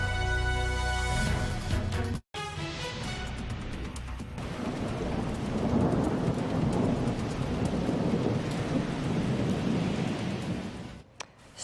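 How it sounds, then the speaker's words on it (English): A strong summer thunderstorm roars with steady heavy rain and deep rolling thunder, a dense continuous wash of sound that briefly cuts out once early on. "Strong thunderstorms moving through during the heart of the 4th of July getaway."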